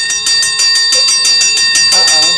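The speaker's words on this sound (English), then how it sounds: "Where did that bell come from?" A bright electric bell rings loudly and rapidly in a continuous trill for a couple of seconds on a 1988 Classic Concentration game show set, up close, briefly joined by a voice.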